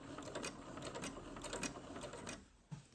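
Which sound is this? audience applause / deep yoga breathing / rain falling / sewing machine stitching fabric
sewing machine stitching fabric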